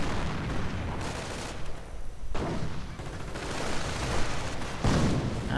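Continuous gunfire and grenade blasts fill a multiplayer war video game battle, with dense overlapping shots and booms at steady loudness throughout and a few brief lulls between bursts.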